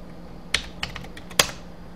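A few quick, light keystrokes on a computer keyboard, three or four soft clicks close by in an otherwise quiet room.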